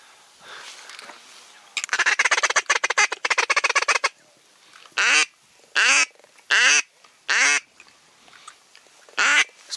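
Ducks quack loudly during an autumn duck hunt over decoys, first in a dense rapid chatter, then in five or six separate harsh quacks spaced about a second apart, close and clear.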